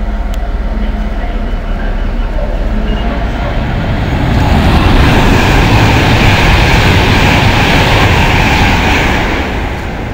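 A British Rail Class 390 train races through a station platform at Nuneaton. A loud, broad roar swells in midway and holds for several seconds before easing slightly.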